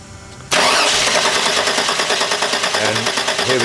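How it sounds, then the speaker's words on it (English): A Mercedes 300E engine being cranked with a faulty cold start valve: after a quiet moment the starter kicks in abruptly, a loud steady rhythmic whirring churn that continues without the engine catching. "the assistant's going to crank the engine"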